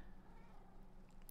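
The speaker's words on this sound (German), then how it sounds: "Und die Katzen nerven hier hinten." A cat in Minecraft gives a faint, short meow at a distance over a quiet game background.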